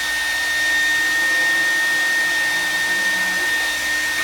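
A hair dryer blows steadily throughout, a constant high whooshing hum with a thin whine, close and fairly loud, with no talking.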